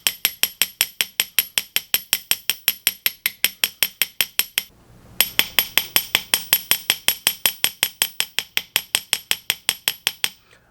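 Rapid, steady cross peen hammer blows spreading the metal of a hand-forged calla lily ring, about four crisp metallic strikes per second with ringing overtones, a brief pause midway, then the strikes resume.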